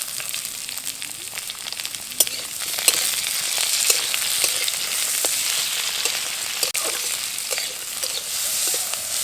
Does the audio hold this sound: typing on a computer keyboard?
no